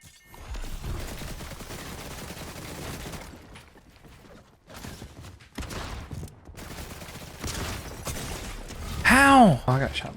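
Gunfire in the Fortnite video game, bursts of shots scattered through steady game noise with a loud cluster of sharp impacts near the end, while a person talks over it.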